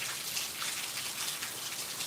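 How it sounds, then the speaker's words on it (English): Rain falling steadily in a garden on a wet day, a soft continuous hiss of drops pattering on surfaces, fairly faint and even, with no voices. "The weather is wet and rainy."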